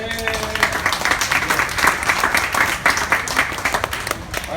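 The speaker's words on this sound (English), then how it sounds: "Round of applause for Rama." Applause from a group at a Pagi Sore sharing session, brisk and dense clapping that holds at a lively level throughout, with a brief voice at the very start.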